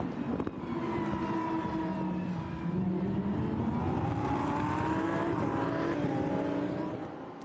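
Lamborghini Super Trofeo race cars at full throttle around the Vallelunga circuit in a 2023 European race, engines screaming steadily with rising and falling pitch as they pass and shift, loud and continuous throughout.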